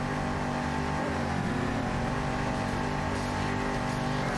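A racing engine drones steadily and loudly close behind in a racing video game, a constant dense roar with slight pitch shifts and no pauses.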